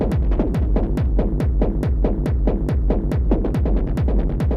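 An industrial techno groove made in Ableton pounds with a heavy, evenly spaced kick and dense repeating percussive hits smeared by a low-pass filtered delay, loud and continuous with no voices.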